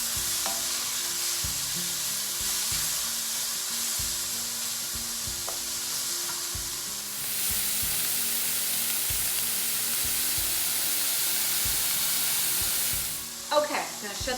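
Onions sautéing in a pan for a beef and broccoli dish, a steady broad sizzle with frequent stirring scrapes and clatter of a utensil, loud and close, without talk.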